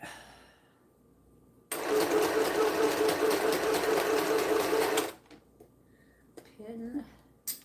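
A sewing machine stitches quilt pieces in one steady, fast, humming run of about three seconds, loud and close, with quiet room noise before and a few soft handling sounds after.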